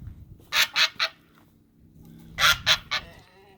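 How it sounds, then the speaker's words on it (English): A goose honks in two bursts of three loud, nasal calls each, close by, with a quiet pause in between. "It's my goose"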